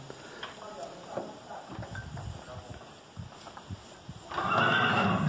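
A young horse, a colt being saddled, whinnies loudly near the end while its hooves clop and shuffle on the ground, with a person's voice faintly in the background.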